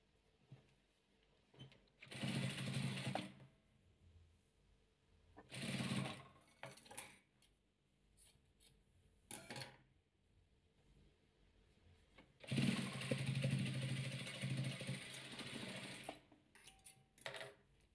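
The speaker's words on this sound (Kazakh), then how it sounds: "Енді қайтадан бұлай ақты тігеміз" A sewing machine stitching a velour patchwork quilt, heard in several separate bursts of fast mechanical stitching with quiet pauses between them, the longest run near the end.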